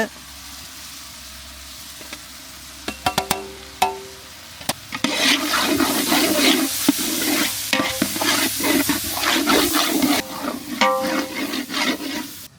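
Spices and masala sauté in a hot pan for a rabbit curry, with scraping and stirring clatter, a few sharp utensil knocks first, then steady loud sizzling throughout.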